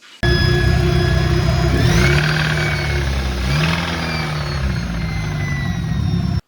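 A Nissan KA24DET turbo engine idles loudly, then free-revs up and drops back twice, its pitch rising and falling. A rough knocking runs beneath the steady drone.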